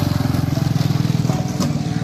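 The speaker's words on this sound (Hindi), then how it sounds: "कोई अंकल दिख गए बाइक चलाते हुए" A motorcycle ridden by a man passes nearby on a road at a wildlife park in Jaipur, Rajasthan, its engine putting out a steady, throbbing putter.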